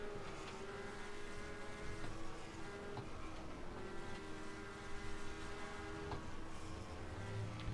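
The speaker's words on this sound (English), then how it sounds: "and then with these 4-cylinder engine sounds" A steady, fairly quiet four-cylinder race car engine drone runs throughout in the NASCAR Racing 2003 video game, a buzzy, high-revving tone like a small Goody's Dash series racing motor heard at a distance.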